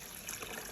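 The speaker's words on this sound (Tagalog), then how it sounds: "So ibubuhos na po namin dito yung tubig." Salt water is poured over eggs in a container for salted eggs, a short steady splashing trickle heard up close with no voices.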